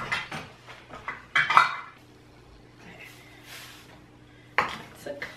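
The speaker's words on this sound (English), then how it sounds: "And we can keep stirring the whole time so nothing burns." Sugar being stirred in a pot for a rum cake, with clinks and scrapes of a utensil against the pot in short clusters, close by, and a few quiet voice sounds in between.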